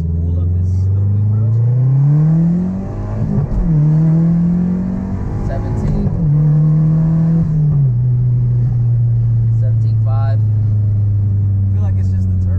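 A Mazdaspeed turbocharged engine revs hard and loud up close, its pitch climbing and dropping through several pulls before settling into a steady high idle, with a faint turbo whistle on top and people talking nearby.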